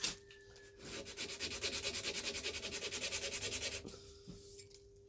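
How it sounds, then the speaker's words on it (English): A chef knife hand sanded with 120 grit sandpaper, quick rhythmic back-and-forth rasping strokes for about three seconds, close and fairly quiet, then stopping. "So now that we started with a 120 grit, I'm gonna remove all scratches"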